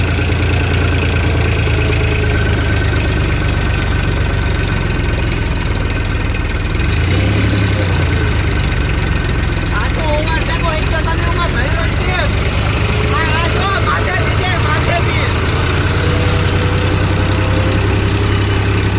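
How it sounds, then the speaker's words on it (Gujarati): A New Holland 3230 and a Farmtrac 47 tractor run side by side at around 1500 to 1700 RPM, giving a continuous loud diesel drone with a heavy low rumble throughout while people talk over it. "બંને ટ્રેક્ટરને 1500 થી 1700 RPM નું કહી દીધું છે"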